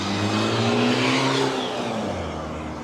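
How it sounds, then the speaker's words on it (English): A loud car engine revs on a city street, a sustained throaty roar with rising and falling pitch that stays close and steady before easing off slightly. "Why do they have to have loud engines?"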